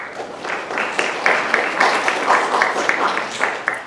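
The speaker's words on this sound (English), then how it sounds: "we can give them a quick round of applause just for all their hard work" Audience applause for students at a career-skills talk on communication, a dense steady patter of many hands clapping close by for several seconds with no talk over it.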